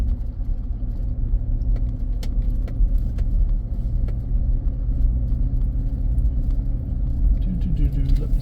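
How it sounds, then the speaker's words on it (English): A vehicle creeps along a potholed country dirt road at about ten miles per hour, a steady close low rumble of engine and tyres with faint rattles and clinks inside the cab. "Trying to keep it at about 10 miles per hour. Trying to avoid all the potholes in this road if possible."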